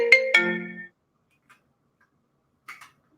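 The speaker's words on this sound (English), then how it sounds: "I got a phone call coming" A brief electronic phone ringtone for an incoming call, two bright tonal notes at the start, then near silence with a faint click and a couple of soft taps later.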